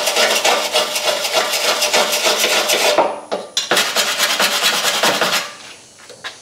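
Grinder or sanding tool scrubbing down welds on a wrecked salvage Toyota Corolla body being rebuilt, a loud continuous abrasive rasp with a brief break midway before resuming, then tapering off near the end.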